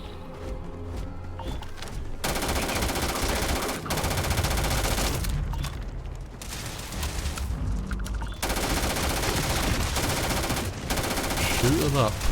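Rapid automatic gunfire rattles almost continuously in the sci-fi game Starfield as alien creatures are shot, loud bursts with brief lulls and thumping impacts, a voice talking underneath.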